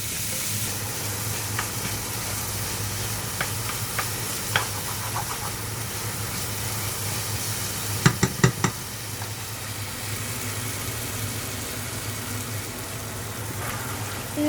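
Turmeric spice mix frying and being stirred in a pan for pickle, a steady sizzle with a few sharp clinks of the spoon midway.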